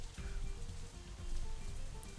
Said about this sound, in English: it's still raining outside when we exit the Shanghai